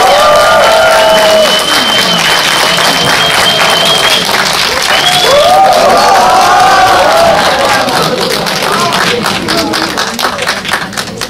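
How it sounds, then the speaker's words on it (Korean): Audience applause and cheering greet the director and lead actors coming on stage after a film screening, a dense, loud wall of clapping with scattered whoops that holds steady for about ten seconds before thinning slightly at the end. "큰 박수 부탁드릴게요."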